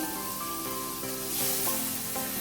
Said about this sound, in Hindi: अब ये मैंने 1 मीडियम साइज की इसमें प्याज ऐड करूंगी